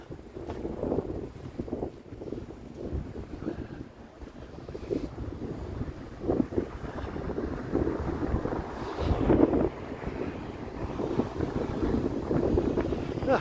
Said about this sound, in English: The wind feels just as bad going west as it did going north.